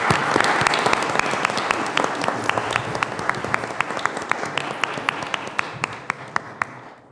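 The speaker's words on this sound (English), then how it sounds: "may we clap for him" An international conference audience claps for a panel moderator, a loud sustained round of applause with distinct sharp individual claps standing out, fading away toward the end.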